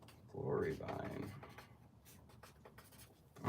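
A pen or marker scratches across a plant label in a greenhouse, a short burst of scribbling strokes followed by a quieter stretch with faint handling noises.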